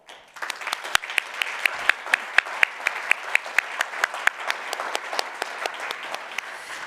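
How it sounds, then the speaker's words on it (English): An audience at a conference applauds a speaker, steady sustained clapping with a few sharp, distinct claps standing out near the front, filling the hall without any talk. "A big round of applause for Nina Frey."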